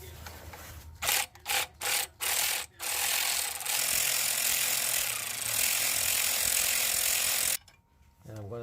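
Ratchet clicking while removing clutch pressure plate bolts on a 2018 Subaru WRX, several short bursts followed by a long continuous run of loud, close ratcheting, then quiet.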